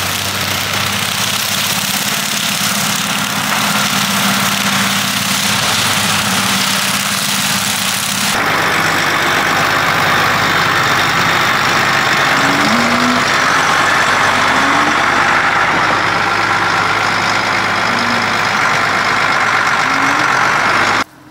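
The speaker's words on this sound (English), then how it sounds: "It's definitely making that tractor work." A tractor engine labours steadily while shredding a hemp straw bale, a loud continuous heavy drone that shifts in tone partway through and keeps running without a break.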